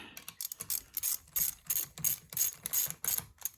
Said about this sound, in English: Put our ratchet in forward only mode.